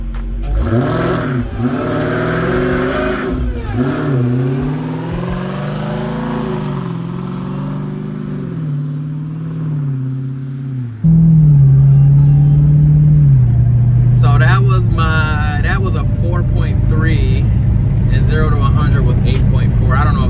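A 2020 Dodge Charger Hellcat Widebody engine roars and revs repeatedly, rising and falling, then a louder, harsher roar takes over as it launches into a burnout, tires and engine straining close by.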